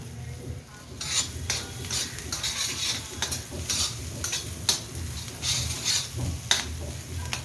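Brinjal masala with ground peanut and coriander sizzles as it is sautéed and stirred in a pan, with repeated scraping strokes and light metallic clinks over a continuous close frying hiss.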